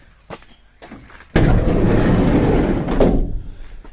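A Ford Transit van door slams shut with a sharp thud, followed by a loud, sustained rattling rumble for a couple of seconds, after a few quieter knocks beforehand.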